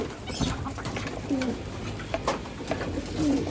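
Pigeons cooing softly nearby, a few low throaty coos scattered over a dull background of rustling and movement.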